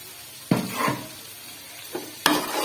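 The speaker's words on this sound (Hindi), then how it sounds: "दही को जो है वो भूनेंगे ताकि दही जो हमारा मेल्ट हो जाए अच्छे से" Yogurt sizzling as it fries in spice masala with tomatoes for a Peshawari Shinwari chicken karahi, a constant close crackle punctuated by a few sharp scraping stirs of the pan, no talking.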